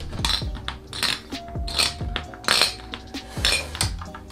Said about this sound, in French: au final j'ai réussi à visser les vis